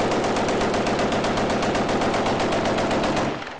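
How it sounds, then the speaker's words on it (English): Rapid, continuous AK rifle fire shot into the air in New Year's Eve celebratory gunfire rattles in a dense, sustained burst, loud and unbroken, before tapering off at the end. "people start shooting AKs in the air"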